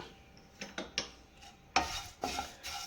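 Flattened rice (aval) fries in a pan, with a light sizzle broken by several sharp, close scraping stirs at irregular intervals and no talk.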